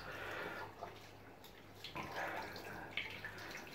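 Water runs steadily from a tap as a razor is rinsed off after a first shaving pass, a close hissing flow with small splashes and drips.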